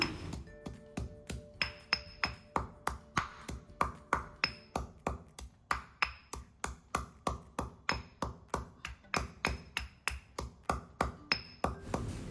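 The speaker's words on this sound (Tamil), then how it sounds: "அதனால் மிக்சியில் போடாமல் இந்த மாதிரி உரல் உலைக்கில் தட்டி போடுங்க." Steady, rapid pounding of tea spices in a traditional stone mortar and pestle, about two sharp strikes per second ringing with bright clinks, close and clear with no talking.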